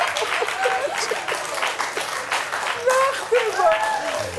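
Studio audience applause on a Georgian comedy show, steady dense clapping with scattered tonal voice-like sounds and laughter mixed in, moderately loud throughout.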